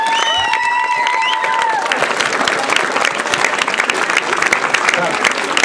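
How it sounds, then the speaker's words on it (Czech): A class claps at a Czech school farewell ceremony for third-year students, bright dense applause with some cheering, opening under a voice calling out before the clapping swells and carries on steadily. "Potlesk, prosím."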